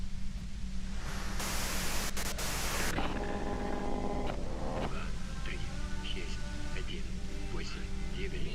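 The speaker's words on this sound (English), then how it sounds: "you can do it through the white noise." A steady hiss of white-noise static plays in Disco Elysium throughout, loudest and harshest early on, then continuing beneath a speaking voice.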